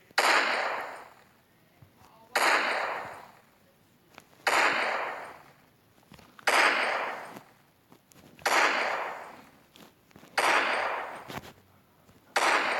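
Pistol shots in a Minecraft-style video game, six sharp loud bursts spaced roughly two seconds apart, each with a bright crack and a quick decaying tail, no voices between them.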